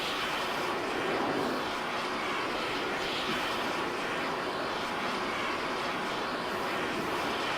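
A jet's afterburner in a video game, a loud, steady, broadband roar that holds at full strength throughout with no voices over it.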